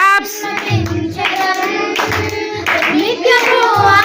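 A group of children at Sunday school clap their hands in bursts between sung lines of a worship song, the claps sharp and close under the singing voices.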